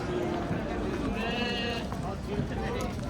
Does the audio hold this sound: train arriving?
no